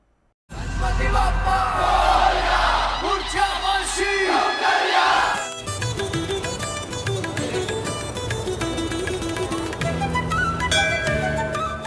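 A dense crowd of devotees at a Ganesh Chaturthi pandal, roaring and chanting loudly together for several seconds before festive music takes over, with the crowd still murmuring underneath.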